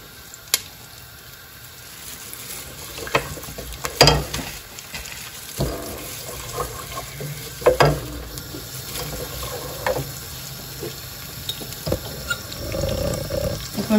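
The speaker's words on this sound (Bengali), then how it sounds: "খুবই সহজে পেঁয়াজগুলো কুক হয়ে যায়" Chopped red onions fry in a pan while cooking a cream cheese mushroom pasta, giving a steady close sizzle with occasional stirring clatters and scrapes, and no talking.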